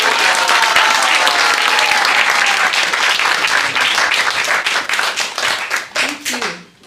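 Audience at a devotional creativity retreat in a temple room breaks into loud, dense applause that holds steady, then thins into scattered claps and fades near the end, with voices murmuring underneath.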